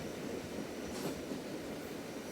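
Steady train rolling along railway tracks, a continuous low rumble and rattle of rail cars with faint rhythmic clatter, constant level throughout, no voices.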